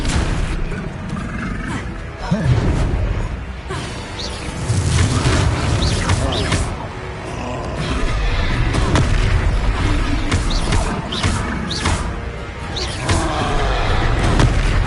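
Confringo spell blasts during a Hogwarts Legacy battle, with repeated booming impacts and crackling bursts over a busy combat soundscape, mixed with voices.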